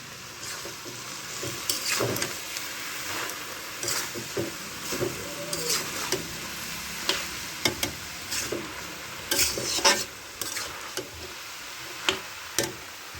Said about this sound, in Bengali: আর আমি ঢেকে দেবো না এইভাবে নেড়ে চেড়ে নেবো